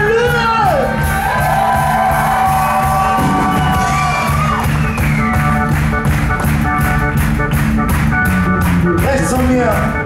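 A concert audience shouts, whoops and cheers loudly for the band's drummer, with a dense steady roar of applause filling the space and a few raised voices standing out above it.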